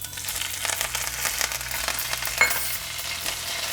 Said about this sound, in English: Once the oil is heated up, I'm just adding some mustard seeds. Next to this, I'm adding some curry leaves and green chilies.